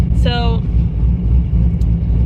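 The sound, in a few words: idling cammed car engine rumble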